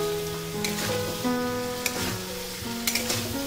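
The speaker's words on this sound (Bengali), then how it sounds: "আলু পটল ভাজার সঙ্গে মশলাটাকে খুব ভালোভাবে কষিয়ে নিতে হবে।" Potato and pointed gourd pieces frying with spices in a wok, a close steady sizzle with occasional stirring scrapes and clinks, while a faint tonal hum runs underneath.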